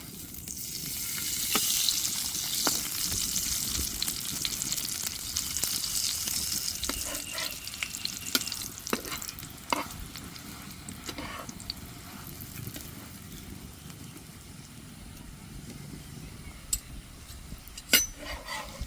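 Onion paratha frying in ghee on a frying pan, a soft continuous sizzle with scattered clicks and taps of a spatula flipping it, fairly quiet and without speech.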